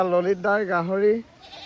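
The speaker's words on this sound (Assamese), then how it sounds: "গৰু ছাগলীবিলাক মানে ৰাস্তাৰ ওপৰতে ৰখা হৈছে" A goat on a road in Khumtai, Assam, where goats and cattle shelter from floodwater, gives one close, wavering bleat lasting about a second, followed by quieter background noise.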